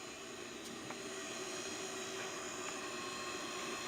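The newly installed replacement motor of an industrial sewing machine runs with a faint, steady hum and a few high tones, unchanging throughout.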